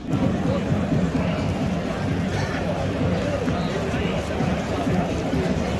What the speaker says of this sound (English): The crowd is starting to build, as you can see.